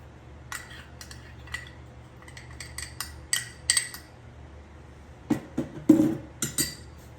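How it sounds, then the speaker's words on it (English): A spoon or utensil clinks and scrapes against a bowl while vanilla wafer crumbs are stirred with melted butter, in scattered short clusters of sharp taps, close and fairly quiet with no talking. "I'm going to give all that a mix"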